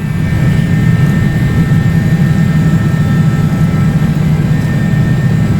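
Hawker 850XP business jet engines spooled to full takeoff power in a Prepar3D flight simulator, a steady, loud, close roar with a deep rumble that holds unbroken throughout.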